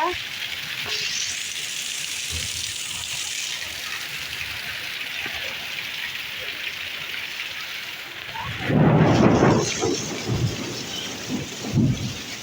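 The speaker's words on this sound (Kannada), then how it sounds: "ನೋಡ್ರಿ ಎಷ್ಟು ಜೋರು ಮಳೆ ಐತೆ ನೋಡ್ರಿ ಇಲ್ಲಿ" Heavy rain pours in a dense, steady hiss, with someone talking over it and a few louder gusts of splashing near the end.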